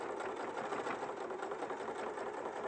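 A sewing machine stitching a bag runs in a continuous, fairly quiet whirring hum that keeps an even pace from start to finish.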